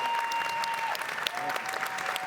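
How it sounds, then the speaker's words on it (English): Steady applause from a conference audience for a panel at ArabCon 2025, dense clapping filling the whole stretch, with a faint tone ringing faintly in the background. "Round of applause for our panelists, everybody."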